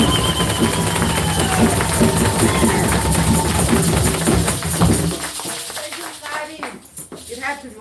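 An audience claps together at a talk introducing an Afrikan calendar, a loud rhythmic patter that fades out near the end as voices and movement take over.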